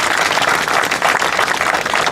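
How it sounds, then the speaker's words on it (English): A crowd applauds at an outdoor community beautification project event in Temple City and Rosemead, many hands clapping in a loud, close, continuous burst with no talking. "give them all a big round of applause"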